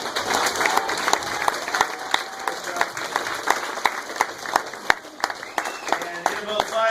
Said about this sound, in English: I just want to give a special round of applause to the lead organizer of this event, Peter Gill